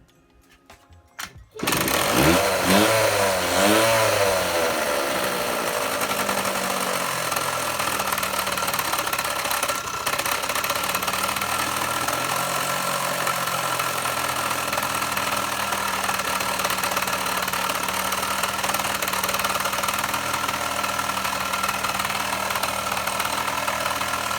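A scooter engine, its exhaust just burned clean, starts up and then runs loud and steady at raised revs for over twenty seconds, a buzzy rattling drone with slight rises and dips in speed.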